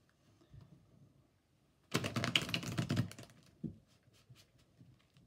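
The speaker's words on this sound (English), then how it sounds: "I want to do one more shuffle" A quick burst of riffling tarot card shuffles for about a second, loud and close, then a single soft tap and quiet handling.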